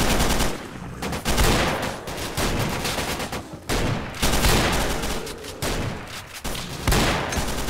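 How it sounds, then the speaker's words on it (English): Gunfire in the video game STALKER: Call of Pripyat, loud sustained bursts of automatic fire with brief gaps, dense and close, with no talk over it. "I could actually see the gunshots coming."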